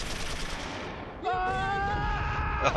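Mortar fire in the WWII strategy game Close Combat III, set at Kursk: a steady broadband din of battle noise that thickens and grows louder about halfway through, with ringing tonal streaks laid over it.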